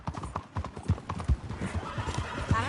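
Horse hooves clip-clop in quick, uneven beats in the Red Dead Redemption video game, close and distinct, with a short whinny and faint game voices mixed in.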